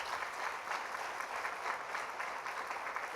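A church congregation claps loudly and steadily for the Lord, a dense, even roar of many hands lasting the whole stretch with no talking over it.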